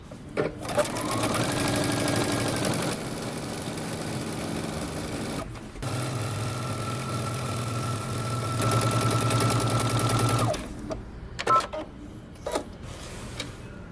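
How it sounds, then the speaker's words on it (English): Sewing machine running a row of stay stitching on a jeans facing, several loud close bursts of rapid stitching separated by brief pauses and a few clicks near the end, with no talking. "I'm going to have you do a row of stay stitching on your facing 5/8 of an inch away from the edge"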